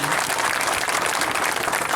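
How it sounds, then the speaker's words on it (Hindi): Crowd at a meeting claps loudly and steadily, a dense wash of many hands for two seconds without pause. "एक बार जोरदार ताली लगाने के लिए सभी लोगों के लिए"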